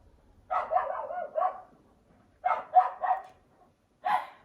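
Dogs bark in a dog park outside an apartment window, three distant bursts of several barks each separated by quiet pauses, muffled and moderately faint.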